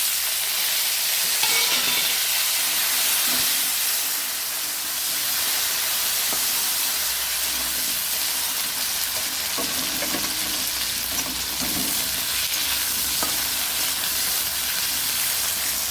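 Sliced potatoes and onion fry in oil while being stirred, making a loud continuous sizzle and hiss close by, with scattered scraping and clinking of the spoon against the pan.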